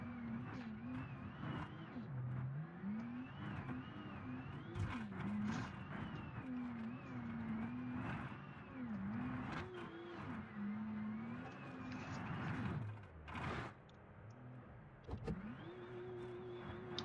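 A Porsche in BeamNG strains off-road, its engine droning and rising and falling in pitch with shifting revs, a steady mid-loud hum throughout with a brief rev spike near the end.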